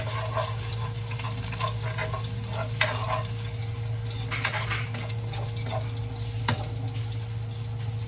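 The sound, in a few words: garlic sizzling in a pan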